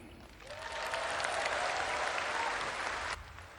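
A large audience at the Gerindra party anniversary celebration breaks into sustained applause, with dense, even clapping that holds for a few seconds and then drops off abruptly.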